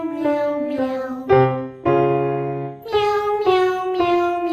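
A group of fourth-grade children sings "meow" over and over, imitating a cat, in a steady, repeated sung pattern with clear sustained notes, each phrase rising and falling.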